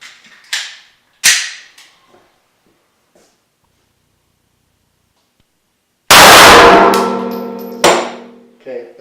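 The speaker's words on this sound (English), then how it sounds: "Shooting a 115 grain standard velocity 9mm out of the Smith & Wesson GVE." A 115-grain standard-velocity 9mm round fired from a Smith & Wesson GVE pistol into clay gives one loud, sharp report with a ringing decay, preceded by a few small clicks and a stretch of near silence.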